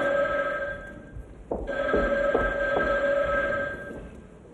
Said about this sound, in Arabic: رد على التليفون لو سمحت